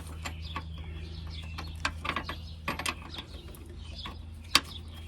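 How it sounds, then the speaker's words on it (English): A 13 mm wrench tightens a front brake line fitting on a 2009 Ford Escape, giving sparse metallic clicks and ratcheting ticks with one sharp clink near the end, over a steady low hum and faint birdsong. "See if we can just tighten that down a little bit with my 13 millimeter."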